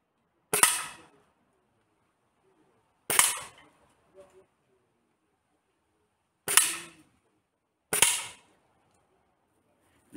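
Four sharp, close shots from a Gamo Maxxim IGT nitro-piston air rifle in .177 firing flat-head pellets, each a crisp crack with a short decay, unevenly spaced, with faint impact ticks after one shot.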